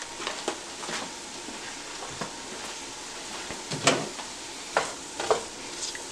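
Baby portobello mushrooms sautéing in a pan, a steady soft sizzle with scattered stirring scrapes and clicks, close and moderately quiet, no talking.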